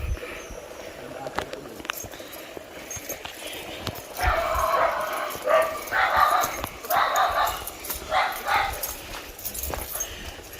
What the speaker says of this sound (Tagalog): Hinabol sila ng aso doon.